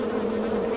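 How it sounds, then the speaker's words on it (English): A fly buzzes in the video game Anna, a close, loud, steady droning hum that holds without a pause through the brief moment, with no speech. "Because it's flying sound. Look, this is buzzing."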